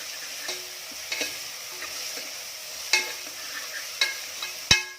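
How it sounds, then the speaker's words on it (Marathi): Whole spices, black peppercorns and green cardamom, sautéing with onion in a pan for chicken masala: a steady soft sizzle broken by sharp scraping spoon strokes at irregular intervals, close and fairly quiet, no voices. "हा मसाला यामध्ये घालायचा आहे आणि हा देखील कांद्यासोबत छान परतून घ्यायचा आहे"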